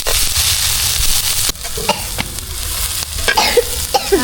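Beef brain with onions, cardamom, cinnamon and bay leaves fries loudly in a pan during an outdoor night cook, a dense close sizzle with repeated stirring scrapes and clanks of the spoon.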